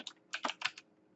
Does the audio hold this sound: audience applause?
no